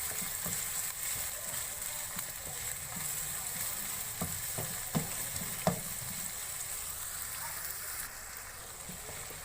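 Hand-minced mutton keema frying in a pan gives a steady, close sizzle with occasional spatula scrapes and clicks against the pan.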